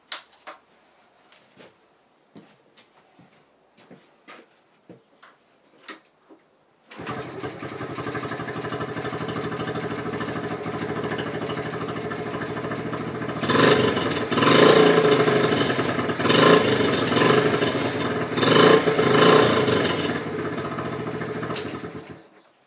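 After several faint clicks, a Honda Dax 70 ST motorcycle engine starts and settles into a steady close idle, followed by a series of sharp blips of the throttle revving it up and back down.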